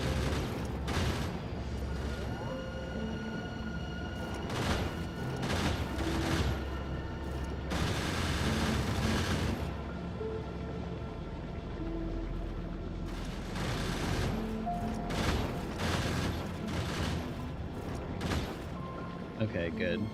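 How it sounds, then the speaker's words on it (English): Gun turrets in Factorio rattling out bursts of rapid fire, loud repeated volleys coming in waves with short gaps, over a steady game background with a faint voice talking at times. "These gun turrets are kind of loud for me."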